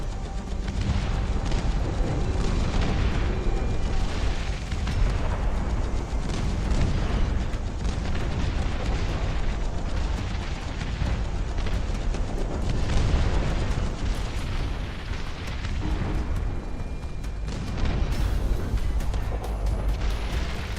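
Howitzer artillery in a video game fires in a continuous rumbling barrage of heavy booms and bursts, loud and dense throughout with no gaps.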